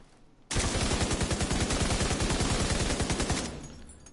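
Automatic gunfire in The Division 2, a loud rapid burst of evenly spaced shots lasting about three seconds, then a fading tail.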